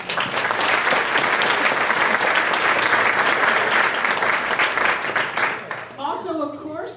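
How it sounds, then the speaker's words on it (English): Audience applause at a charity luncheon thanking event sponsors, a dense steady clatter of many hands clapping that fades near the end as a voice begins speaking. "So a round of applause for our sponsors."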